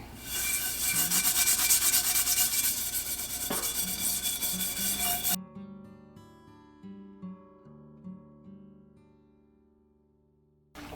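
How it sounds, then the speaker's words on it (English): The bottom of a secondhand pan is scrubbed in steady, close rubbing strokes for about five seconds, then the scrubbing stops and faint tonal sounds linger. "I am gonna have to do a little bit of scrubbing here."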